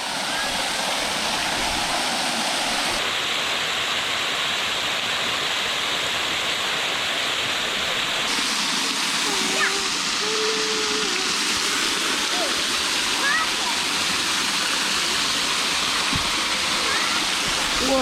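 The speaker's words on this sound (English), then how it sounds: "What do you think of the waterfall?" A Tennessee waterfall makes a loud, continuous, close roar of rushing water that fills the whole stretch, with people talking faintly beneath it.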